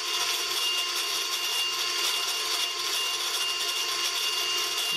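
Ryobi brushless angle grinder running on and on in a runtime test against a Makita, a steady high-pitched motor whine held without a break, no speech over it.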